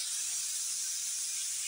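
A pressure cooker on a gas stove with chickpeas in salted water, letting out a steady, close, unbroken hiss of escaping steam with no talk over it.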